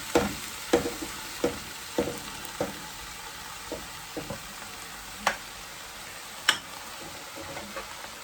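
Callaloo is stirred in a pot with a spoon, giving a rhythmic series of scraping knocks over a faint steady sizzle, loud at first and then more spaced out, with no voices.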